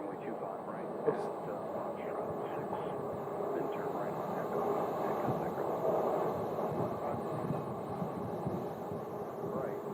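A Boeing 737-700 airliner taxis toward the runway at Phoenix, giving a steady, moderately distant jet engine rumble and whine under continuous background talk.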